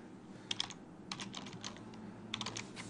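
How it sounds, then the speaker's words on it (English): Fast typing on a computer keyboard as a name is entered into an input box, with short bursts of crisp key clicks separated by brief pauses, close and fairly quiet. "So you can just type in a name"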